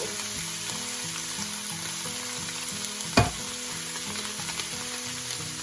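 Hamburger soup ingredients sizzling and cooking down in a pot, a loud continuous fry with stirring scrapes and one sharp clank of a utensil against the pot midway, no voices.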